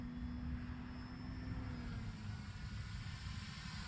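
An E-flite Cub RC model airplane makes a low, slow pass, its small motor giving a steady high whine that drops slightly in pitch over a constant rushing background, with no talking.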